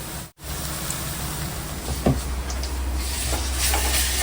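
Onions sautéing in a pan, a continuous close sizzle and hiss with a few brief stirring scrapes, steady throughout with a short dip near the start.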